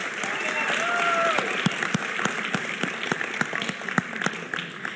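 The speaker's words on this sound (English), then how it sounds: "so a round of applause for him" At a wedding reception speech, guests applaud. Scattered claps over a crowd murmur swell and then thin out, and a short cheer or voice rises near the start.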